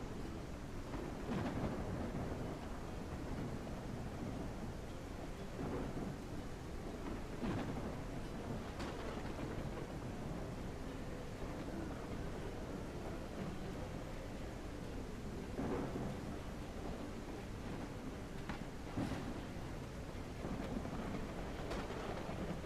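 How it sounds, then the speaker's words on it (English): A thunderstorm in the Whiskerwood video game: steady, dense rain fills the whole stretch while several sharp thunder cracks and rumbles break through at intervals, with no talk over it. "This has been a rainy spring too."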